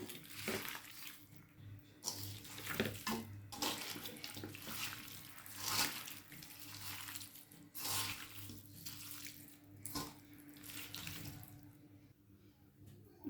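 Tap water runs into a sink as hands are rinsed after mixing chopped meat for biryani, a faint, steady splashing trickle with small irregular bursts and no talk.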